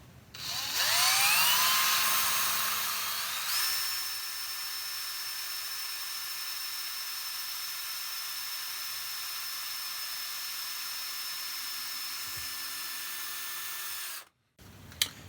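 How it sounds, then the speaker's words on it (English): A small power drill with a tiny metal bit whines steadily at high pitch while drilling out a screw in an infill smoothing plane, revving up at first, then holding a constant tone for over ten seconds before abruptly stopping. "This is a very small metal drill, so I can go alongside."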